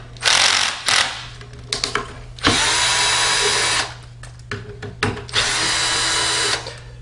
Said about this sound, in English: I am going to use our power driver.